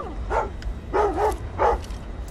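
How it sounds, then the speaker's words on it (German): Dog in the 2014 video game Thief, three sharp barks or yips spaced about half a second apart over a low background rumble. "Dann muss er eben bellen, der Hund."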